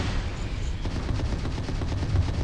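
Rapid torpedo fire in the space combat game DarkStar Astrodynamics, a dense run of sharp repeated blasts over a steady low rumble, loud and continuous throughout.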